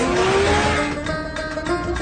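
A limousine accelerating hard gives a loud engine roar with a rising tone, then choppier revving and brief tire squeal as gears shift, all without voices.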